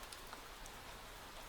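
Steady rain falls on a balcony at night, a dense, even patter with a few brighter drops standing out, quiet and continuous with no voices.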